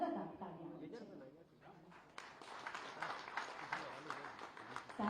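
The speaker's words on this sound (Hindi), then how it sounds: "लगातार तालियां होनी चाहिए।" An audience at an investors' meeting for a textile and apparel park claps. The applause is quiet at first and swells into fuller, denser clapping partway through, with some voices underneath.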